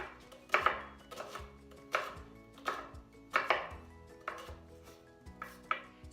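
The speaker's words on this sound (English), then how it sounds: "I'm going to take my knife and give it a few cuts" Shallots sliced with a knife on a cutting board, about nine crisp, separate chops at an unhurried, slightly uneven pace, close and clear in a quiet room.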